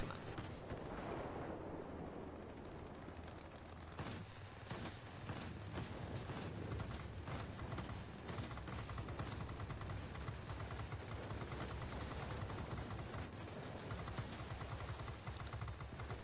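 Aircraft machine guns fire in the World of Warplanes combat game, a dense, continuous rattle of rapid bursts layered over roaring engine and battle noise, loud and unbroken.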